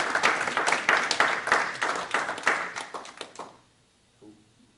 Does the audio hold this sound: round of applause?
yes